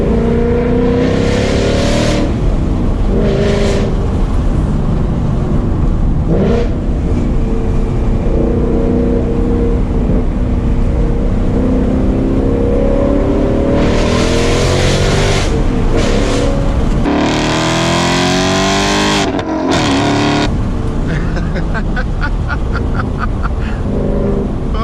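A Ford Mustang GT with Corsa Extreme exhaust roars loudly and continuously while driven hard on backroads, its engine note rising and falling through repeated accelerations and gear shifts with sharp pops, heard from inside the car.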